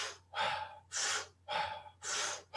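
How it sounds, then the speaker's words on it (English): Strong connected breathwork, four loud, close, rhythmic breaths alternating in an even cycle of about half a second each, with no talk. "That strong connected breath,"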